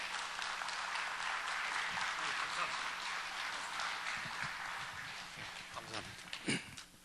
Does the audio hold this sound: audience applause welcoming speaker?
yes